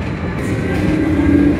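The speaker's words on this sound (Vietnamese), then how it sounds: "Giờ tôi đang trên tàu điện chuẩn bị vô." A train rumbles steadily on the way to the Maokong Gondola in Taipei, a continuous low mechanical roar with a faint higher whine, heard from inside the carriage with no talking.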